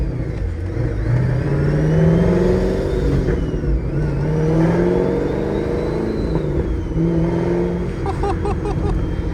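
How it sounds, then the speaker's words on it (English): A 1000+ hp GT500 engine runs steadily with a rising supercharger whine layered over the rumble, the pitch climbing and settling as it accelerates, close and continuous. "You hear that blower whining"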